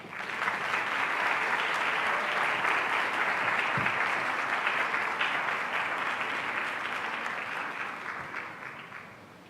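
Sustained audience applause fills a conference hall after a presentation at a panel on harassment and gender violence in medical practice, steady dense clapping throughout that eases slightly near the end.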